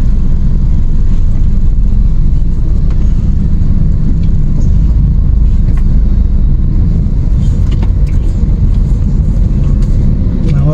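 Busy road traffic at night heading toward Laguna, a constant loud rumble of engines and passing cars heard from inside a vehicle, with faint voices underneath.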